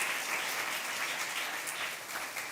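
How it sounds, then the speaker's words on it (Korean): A church congregation at a Friday night worship service applauds steadily, a dense, even wash of many hands clapping throughout at moderate volume, with no voices. "우리의 예배를 받으신 하나님께 영광의 박수 올려드리겠습니다"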